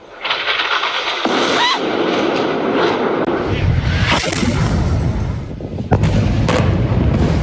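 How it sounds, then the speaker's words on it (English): Missile strikes by warplanes hitting a 12-story apartment complex, heard as a continuous loud roar of blasts and rumbling with sharp cracks and booms layered throughout. "A 12-story apartment complex flattened by missiles fired from Israeli warplanes"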